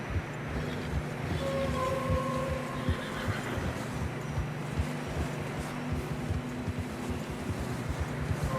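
A horse in Red Dead Redemption 2 neighs and whinnies while struggling through fresh snow, over a rhythmic rumbling of hooves and movement, with a steady low drone throughout.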